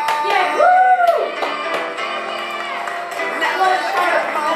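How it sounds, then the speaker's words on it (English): A few people cheer and whoop together in bright, rising vocal bursts, with excited chatter mixed in across a few seconds. "Oh, this is the cheering part. So we're cheering!"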